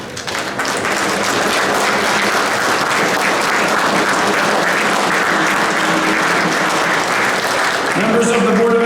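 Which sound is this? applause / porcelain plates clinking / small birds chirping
applause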